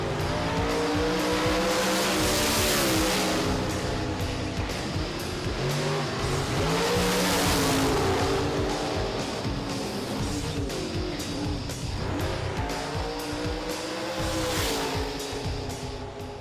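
Drag racing cars at Sydney Dragway in the Top Sportsman bracket roar loudly and continuously, engines rising and falling in pitch with some tire squeal mixed in.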